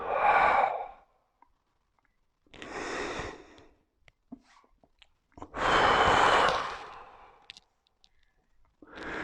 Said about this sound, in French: Soufflez profondément, évacuez bien tout l'air que vous avez dans la cage thoracique.